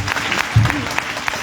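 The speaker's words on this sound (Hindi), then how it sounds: "आए प्रभु के लिए ताली बजाएंगे।" Brief burst of congregation applause at a church gathering, steady dense clapping from many hands throughout, fairly loud and close.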